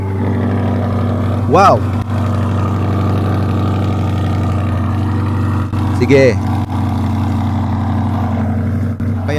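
Chevrolet C8 Corvette engine running with a steady, loud low exhaust drone throughout, under excited speech from people nearby.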